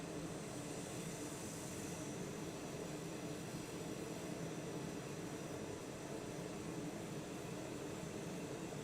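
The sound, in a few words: TBM 930 aircraft engine in Microsoft Flight Simulator video game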